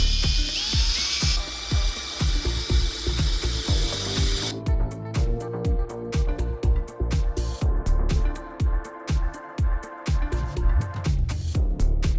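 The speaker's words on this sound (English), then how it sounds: "Pilot drill these out first with a smaller one and go to a bigger size." A power drill bores pilot holes into metal parts for a camping trailer, a busy run of whirring bursts and ratcheting clicks, first with a smaller bit and then a larger one, loud and close with no speech.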